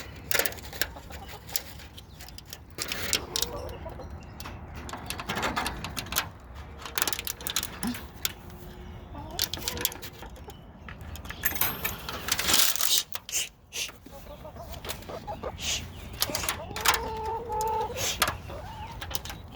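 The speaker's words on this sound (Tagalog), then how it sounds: "Ito po ang mga alaga kong manok." Five pet chickens in a barn give soft, scattered clucks and scratchy rustling at close range while being fed, with no talk.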